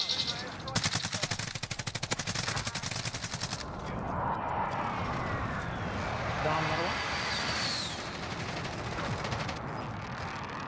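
Rapid bursts of video game gunfire, close and loud, with machine-gun rattles in the opening seconds, then a wash of distant shooting and aircraft-like noise while a voice talks over the action.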